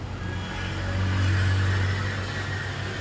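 A Motorstar 400 motorcycle engine, with a weak battery, cranks and rumbles steadily for a few seconds without catching, loud and close with no talking.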